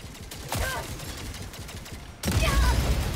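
An orbital strike firing in the video game Helldivers 2: heavy, dense rumbling bursts of gunfire-like blasts that continue throughout, with a sharp loud impact partway through and voices faintly mixed in.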